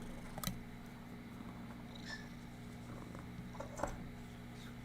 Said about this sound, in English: You hear her heavy, heavy purr breathing.